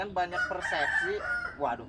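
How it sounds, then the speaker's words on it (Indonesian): Rooster crowing in a village near a rabbit farm, a drawn-out call heard beneath steady overlapping conversation. "maaf itu suara ayam"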